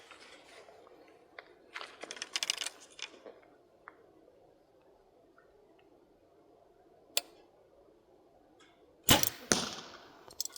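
Archery hinge release firing an arrow from a bow: quiet stretches of faint clicks and handling noise, a single sharp tick, then a loud snap of the shot followed by a quick thud, close and without talking.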